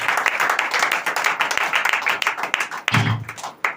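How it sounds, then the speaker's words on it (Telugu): Congregation at a church sermon clapping together, a dense, rhythmic run of hand claps that stays loud and close throughout, ending in a low thump. "చప్పట్లు కొట్టండి అందరూ."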